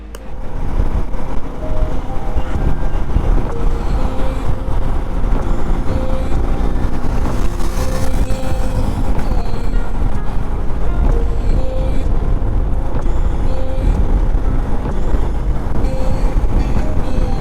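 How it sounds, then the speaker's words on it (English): Motorcycle ride captured on a helmet-mounted GoPro, a loud, constant low rumble of engine and wind buffeting filling the whole stretch without letup, with no clear voices. "let me show you a clip of how it records when we ride the bike"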